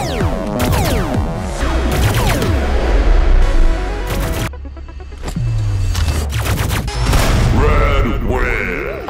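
Laser tag guns fire in rapid, chaotic bursts of electronic zaps and sweeping tones during a film scene, with crashes and voices mixed in, loud and busy throughout.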